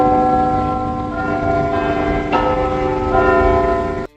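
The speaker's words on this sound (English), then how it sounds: "It's also a lovely place to stop and wait for the bells to chime on each quarter of the hour." Church bells in London ring loud and close in a long, sustained peal, with a fresh strike partway through and overlapping tones ringing out, then a sudden cutoff at the end.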